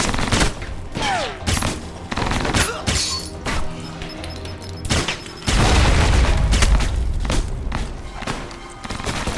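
Shotgun blasts and rapid gunfire in the Alpha Protocol spy game, loud repeated booming shots with thuds and crashes, continuous through the stretch and heaviest in the second half.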